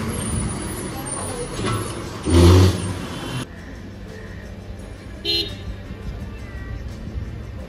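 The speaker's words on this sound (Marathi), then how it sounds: "मागून आता अजून एक बस लागली आहे ती बघा" A decorated red ST bus runs a festival special to the Anganewadi jatra in Konkan, its engine rumbling nearby with a loud blast of horn or air brake and a later short hiss, over a murmur of voices.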